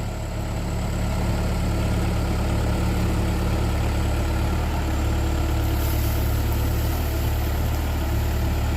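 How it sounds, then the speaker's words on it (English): Heavy 2003 backhoe of about 9 tons and 80–90 horsepower idling, a deep steady diesel rumble, close and constant throughout with no change in pace and no voices. "So it's a pretty heavy backhoe."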